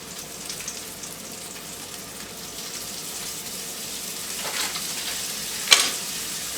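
Mashed potato patties fry in melted butter in a pan, a steady close sizzle running throughout with a brief sharper crackle near the end.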